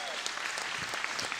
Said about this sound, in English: So maybe we can give him a round of applause.